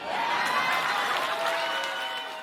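Audience at a political election rally applauding, a steady wash of clapping with faint cheers, moderately distant and continuous throughout without pause.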